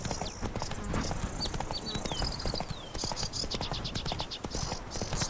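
Horse hooves clip-clop at a steady walking rhythm in The Witcher 3 video game, close and continuous, with faint game ambience and brief whistling tones overhead.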